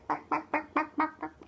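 A voice cracks into a string of six rapid, nasal duck-like squeaks, each short and evenly spaced, loud and close with no other sound.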